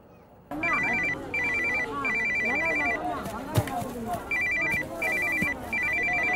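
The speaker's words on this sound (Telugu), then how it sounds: "అమ్మ ఫోన్ చేస్తుంటే తీవేంట్రా?" Mobile phone ringtone in a film scene, a repeating electronic ring in short bursts with brief pauses, loud and close, while people talk over it.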